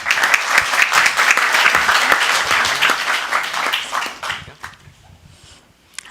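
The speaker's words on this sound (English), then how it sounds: "Round of applause for these." Loud, dense applause fills a city council chamber during a meeting in Burbank, continuing strongly for several seconds before tapering off into scattered claps and quiet.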